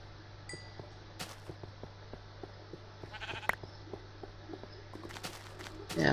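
Sheep bleating inside a Minecraft-style video game, several short bleats scattered over a steady low hum, with small clinking game sounds and a louder burst near the end.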